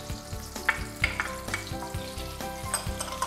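Soy sauce sizzles loudly in a hot pan beside duck breast and evaporated alcohol, with crackling bursts and repeated stirring scrapes close by.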